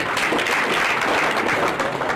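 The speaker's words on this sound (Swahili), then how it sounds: "hapa makofi ingine, hiyo makofi." A brief burst of audience applause at a political gathering, dense steady clapping from a crowd lasting a couple of seconds, fairly loud and near.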